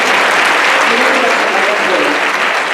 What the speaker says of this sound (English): You can applause for that.